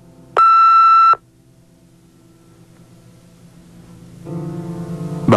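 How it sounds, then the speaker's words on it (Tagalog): A single sharp electronic voicemail beep follows a recorded phone message, a pure steady tone lasting under a second, then quiet line hiss before a louder buzzing hum rises near the end. "Please leave a message after the beep."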